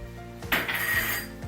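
A spoon scrapes and stirs a heaped teaspoon of tomato paste through a pan while making coconut butter chicken, a close, steady scraping that lasts under a second over a faint background hum.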